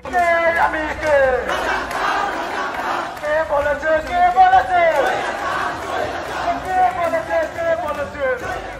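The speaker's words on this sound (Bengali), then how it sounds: "সারা দেশে বিক্ষোভ ছড়িয়ে পড়ে, স্লোগান ওঠে, তুমি কে আমি কে" A large protest crowd chants a slogan in unison during a nationwide student movement, rhythmic voices rising and falling in repeated phrases, loud and massed over general crowd noise.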